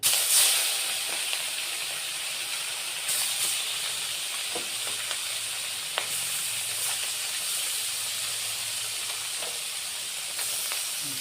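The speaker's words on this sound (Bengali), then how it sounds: "বন্ধুরা মাছ ভাজা হয়ে গেছে এখন নামিয়ে দিচ্ছি" Boroli fish rubbed with turmeric and salt fries in a pan, giving a steady, hissing sizzle close by. Occasional faint clicks and clatters sound over it.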